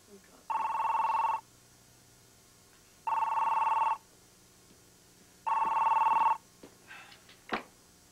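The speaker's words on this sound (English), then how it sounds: "Let me make a phone call." An old-style telephone bell rings in three long, loud bursts with pauses between, followed by faint handling clicks as the receiver is picked up.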